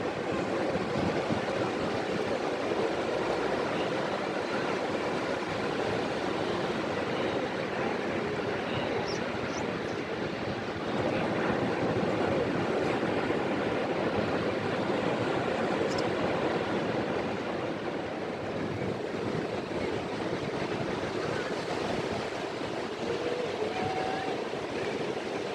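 Ocean waves rolling onto Kuta Beach in Bali at sunset, a continuous, loud surf roar with wind noise across the whole stretch.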